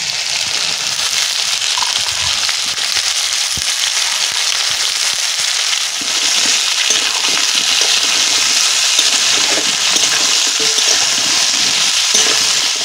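Raw chickpeas frying in hot oil for a golden rui fish curry, a steady loud sizzle with crackling pops and occasional stirring scrapes throughout.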